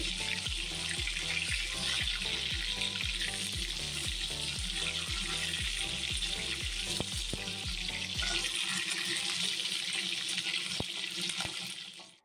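Dried fish (shutki) frying in oil in a pan over a low gas flame, a steady dense sizzle with rhythmic clanking from stirring in the first two-thirds, close and loud throughout, no voices.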